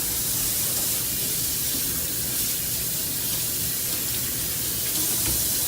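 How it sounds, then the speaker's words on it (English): Tap water running steadily into a kitchen sink while broccoli is washed, a continuous, loud, close splashing rush with no pauses. "Want to wash your broccoli off good."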